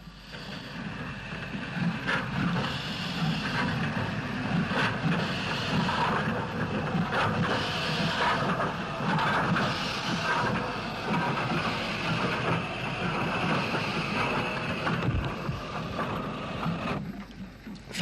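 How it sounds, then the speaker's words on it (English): GNR S-Class steam locomotive No. 63, Slieve na Mon, shunts a morning goods train at Lisburn, a continuous mechanical rumble with clanking, rhythmic chuffing and rattling that stays fairly even and moderately loud throughout. "GNR S-Class number 63, Slieve na Mon, was recorded shunting a morning goods at Lisburn on the 2nd of March"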